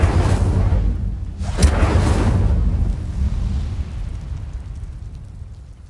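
The Incendio fire spell in Hogwarts Legacy bursts out as a heavy roaring whoosh, with a sharp crackling flare midway, then a rumbling boom that slowly fades.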